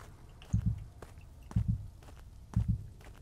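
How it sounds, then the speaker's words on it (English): In the horror game Witch Hunt, twigs crunch underfoot three times in steady paced pairs of dull low snaps, close by over a quiet background. "I heard, like, the twig crunch again."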